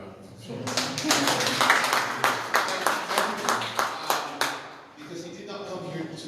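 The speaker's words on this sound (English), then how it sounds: "Ladies and gentlemen, please give a man a round of applause." An audience applauds a keynote speaker at a public discussion on sustainable aviation, steady dense clapping rising to a peak then tapering, with voices murmuring underneath and talk resuming near the end.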